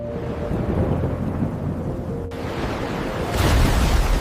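A thunderstorm at sea, with a steady roar of heavy rain and wind rolling throughout and a loud crack partway through, then a swelling rumble of thunder near the end.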